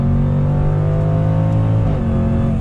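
Jaguar F-Pace SVR performance SUV from 2020 accelerating back on the throttle, a loud, steady engine drone with rising harmonic tones and a gear shift near the end, heard up close from inside with no talking.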